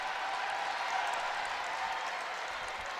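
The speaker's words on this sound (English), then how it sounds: "Wisconsin crowd trying to get into things" Wisconsin home crowd at an NCAA women's volleyball tournament first-round match against Western Michigan, a steady, dense roar of cheering and applause filling the arena at an even level throughout.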